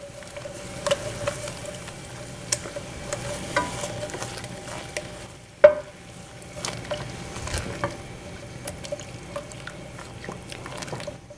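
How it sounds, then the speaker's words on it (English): Milk is stirred into a lumpy mac and cheese sauce in a pan, with soft scraping and gentle liquid sloshing beneath a faint sizzle and occasional clinks of the utensil, one louder knock midway. "So just slowly add a little bit of milk and blend it in to get out the lumps."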